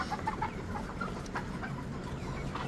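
Caught chickens cluck softly and repeatedly in the middle of the night while being loaded onto a vehicle at a poultry farm, faint soft calls over a steady background rumble.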